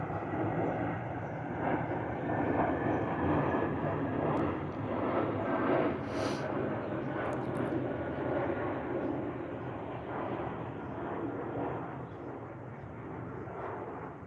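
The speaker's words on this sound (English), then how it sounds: "Airplane." An airplane drones overhead in a long, steady roar that swells and slowly fades, with a few faint high chirps in the background.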